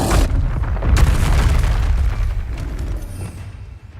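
Booming spell blast from the Confringo curse in the Hogwarts Legacy video game, a loud low-heavy burst near the one-second mark that rumbles on steadily through the rest of the moment, with no talking.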